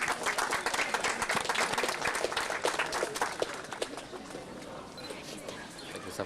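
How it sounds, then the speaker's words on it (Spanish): An audience at a regional workshop of Peru's national journalists' association breaks into dense, steady applause that fills the room for several seconds, thinning slightly toward the end, with faint voices underneath. "Vamos a brindarle fortísimas palmas."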